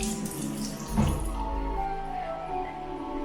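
Water streams from an infrared sensor tap in a public washroom. The splash is soft and steady and swells briefly near the start as the flow hits the basin, then runs on quietly.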